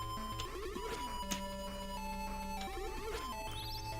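Video game sound of a star in pain: warbling, pitch-sliding electronic tones with brief crashes and squeals, repeating in a looping pattern at low volume.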